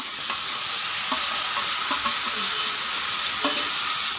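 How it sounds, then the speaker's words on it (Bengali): Spice paste fries in a pan for a rohu fish curry with gandal leaves. A steady, loud sizzle runs throughout, with soft scraping stirs breaking through it now and then. "খানিকক্ষণ আমি নাড়বো"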